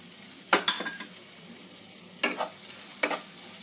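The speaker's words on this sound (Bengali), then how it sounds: "গ্যাসের ফ্লেমটা লো টু মিডিয়ামের মধ্যে রেখে মশলাটা একটু ভাজা ভাজা করে নেব।" Chilli paste spice mix for besan kachori frying in a pan over low to medium gas flame, with a few stirring scrapes and soft sizzling bursts spaced apart, close and fairly quiet.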